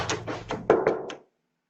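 Several knocks on an apartment door in a complex, a quick run of dull thuds followed by two harder raps and a final tap, close and clear, then silence.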